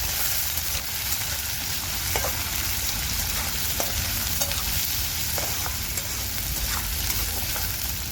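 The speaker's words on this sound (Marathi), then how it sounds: "तर आता कांदा मी लाल होत तर परतून घेणार आहे" Onion sautés in a pan for a wild alambi mushroom curry. A dense, even sizzle runs close and loud throughout, broken by occasional spoon scrapes and small crackles, with no talking.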